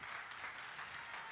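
Church congregation clapping in praise, a steady wash of many hands with no single beats standing out, fairly faint and continuous with no voices.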